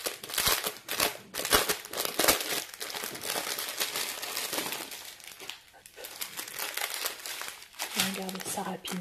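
Plastic bags of diamond painting drills being opened and handled close up, a steady run of crinkling and rustling with small crackles, continuing at moderate level throughout.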